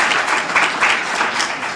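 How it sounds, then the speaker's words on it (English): Audience applause for women resettled farmers at a regional state address in Otjozondjupa, Namibia, a short burst of clapping that swells and fades unevenly across the room. "Round of applause for the women."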